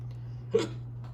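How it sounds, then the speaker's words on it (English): Single hiccup during Minecraft gameplay, one short sharp burst against a steady low electrical hum, faint and near. "Cursed hiccups."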